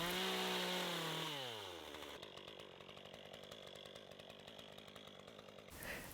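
An MS 201T chainsaw trims timber edges for a duck coop build, revving high, dropping sharply in pitch, then running at a steady rapid buzzing chatter before a brief final rev, loud and close with no talk.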